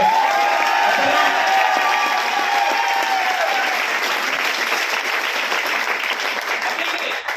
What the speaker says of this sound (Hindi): एक बात तो प्रोडक्ट की क्वालिटी के लिए जबरदस्त तालियां बजनी चाहिए